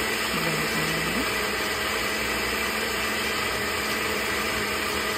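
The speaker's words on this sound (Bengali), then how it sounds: "পুদিনা পাতা, দই, টক দই, বিট লবণ, চটপটির মশলা, কাঁচামরিচ একসাথে ব্লেন্ডারে দিয়ে" A blender runs loud and steady, whirring a mix of mint leaves, yogurt, black salt, chaat masala and green chilies for borhani, a constant close motor drone with no voices.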